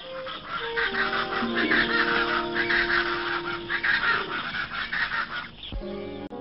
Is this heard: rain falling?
no